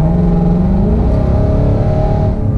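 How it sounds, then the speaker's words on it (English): A loud supercharged Ford Mustang S550 engine hums steadily at half throttle, its pitch climbing slightly with a faint supercharger whine, close up and continuous. "you go to give it half throttle"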